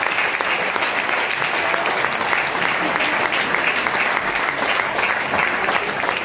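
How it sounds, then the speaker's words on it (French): Audience in a restaurant theatre gives dense, steady applause that holds at an even level for several seconds, full and close, with no talk on top. "On applaudit."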